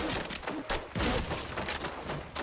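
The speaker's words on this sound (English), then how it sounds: "we're being shot from every direction" Gunfire in a video game: dense, overlapping volleys of shots arrive from all sides in rapid, uneven bursts and stay loud and continuous throughout.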